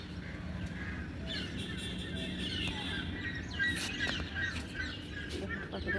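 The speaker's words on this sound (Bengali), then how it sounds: "পাখিদের কত রকম আওয়াজ।" Early morning on a rooftop, with several birds calling and chirping at a distance, including crow-like caws, over a faint steady background hum. The sounds are quiet and scattered.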